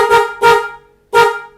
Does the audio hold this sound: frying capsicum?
no